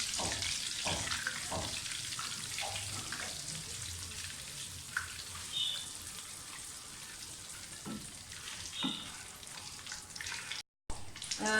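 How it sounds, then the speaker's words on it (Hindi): Whole spices crackling and sizzling in hot oil in a pan for matar aloo pulao, a steady close hiss with small pops throughout, no talk. "ऑयल गर्म हो गया है, साबुत मसाले डाल दें।"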